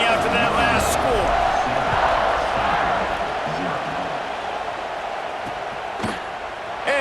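Stadium crowd in a football video game, a dense continuous buzz of noise that stays loud and fades only slightly, with a sharp bang near the end.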